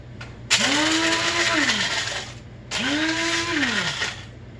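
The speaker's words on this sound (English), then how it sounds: "So we're gonna do a little bit more in my little handy dandy grinder here" A small electric spice grinder whirs in two bursts of about two seconds each, the motor spinning up and settling into a loud, close, steady buzz before cutting off, with no talking.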